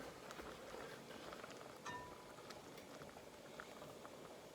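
Cornmeal simmering in a pot gives off a dense, steady bubbling and popping, quiet and close, with no voices over it.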